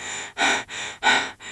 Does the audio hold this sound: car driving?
no